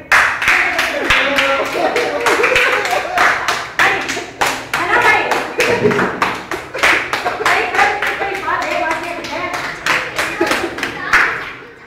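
A group claps hands during a Pranic Healing session, sharp loud claps in fast irregular bursts and rhythmic runs, close by, with people talking in between.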